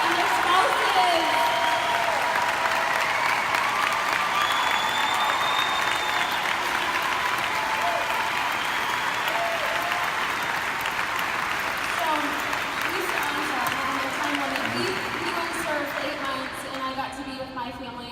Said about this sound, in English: can we have a round of applause for any active military?